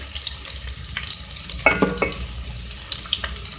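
Mustard seeds sizzle and crackle in hot oil as a dal tempering is fried, a light steady frying hiss with a brief burst of popping in the middle.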